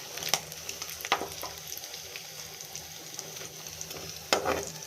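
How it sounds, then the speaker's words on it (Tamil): Fish frying in hot oil for a spicy crispy fish fry, a steady close sizzle with intermittent sharp taps and scrapes of a spatula turning the pieces, louder bursts near the start and end. "இப்போ மீன் பார்த்திங்கனாக்கா ரொம்ப அருமையாக வறுத்தாச்சு."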